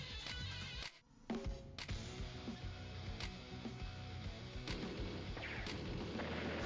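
Artillery strikes hitting a tank in the Advance Wars: Days of Ruin video game, a string of sharp booming impacts over game music, loud and close, repeated several times at irregular intervals.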